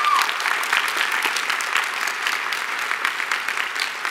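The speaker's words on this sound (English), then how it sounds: "I want to have us all give a round of applause to Ellen, Dr. Vinnie Pompey, and all of the" A conference audience claps steadily for the full stretch, a dense, even roar of applause from a large room with no voices on top.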